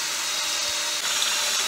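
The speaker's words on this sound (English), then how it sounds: "And then just drill the hole." Power drill boring a hole in wood while building a seat box trolley, a steady, close, continuous whine that runs without a break.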